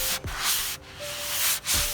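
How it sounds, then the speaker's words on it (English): A skateboard deck is sanded by hand in three long, rough rubbing strokes, each ending in a brief pause, close and fairly loud. "the first thing I'm about to do with this board is sand it down"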